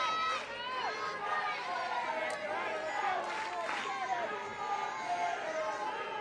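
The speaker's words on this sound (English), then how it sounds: "This crowd trying to do its part." Crowd at a near-capacity college softball game, Florida versus Tennessee, on a Saturday afternoon: a steady, fairly distant wash of cheering and chatter that holds throughout, with an announcer's voice over it at times.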